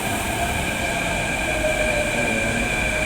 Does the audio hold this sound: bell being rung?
no